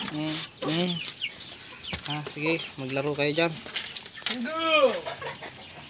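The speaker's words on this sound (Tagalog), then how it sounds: "Ayan yung mga manok natin, oh." Chickens, including a rooster, cluck and squawk close by in short bursts on a small farm, with a person talking over them.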